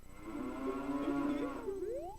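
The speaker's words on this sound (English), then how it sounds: "I don't know why the cows make that sound." Cows in the video game Majora's Mask give a drawn-out, warbling moo with a rising, strained tail, lasting about two seconds, loud and close with no talk over it.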